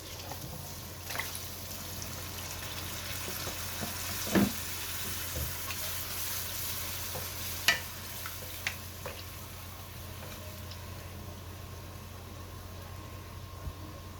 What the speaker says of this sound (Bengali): আমার মাংসর মশলাটা খুব সুন্দর ভাজা ভাজা হয়ে আসছে এখন আমি মেরিনেট করা মাংসটা অ্যাড করব